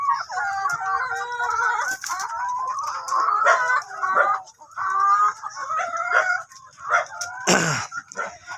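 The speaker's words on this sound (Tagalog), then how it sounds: "magpapakain tayo ng ating mga alagang manok" Backyard chickens at feeding time give a busy chorus of clucks and squawks, with a rooster crowing among them and a sharp burst of noise near the end, all close and loud.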